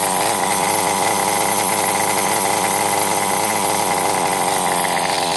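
A Kyosho RC model's small nitro engine running at a steady high buzz after an idle adjustment, loud and close, with a constant raspy whine and no talk.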